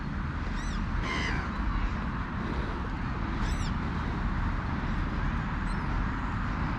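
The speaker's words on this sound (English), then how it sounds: "Our little gulls are here." Gulls calling by the water, a few short raspy cries spaced apart over steady wind and background rumble, fairly faint.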